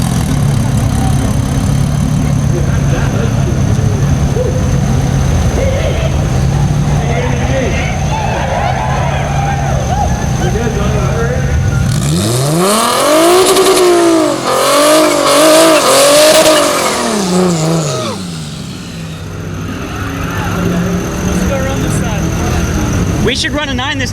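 Stock sealed-motor 3.7 L V6 Mustang launching down a drag strip, a loud engine wailing up through rising revs in repeated sweeps, amid constant crowd and track noise with voices underneath.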